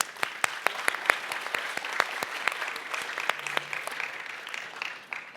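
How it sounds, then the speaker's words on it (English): Audience applause at the 2019 Breakthrough Prize Symposium panel discussions: steady clapping from a large room, with several crisp individual claps close by standing out, fading slightly toward the end. "you deserve a round of applause as well."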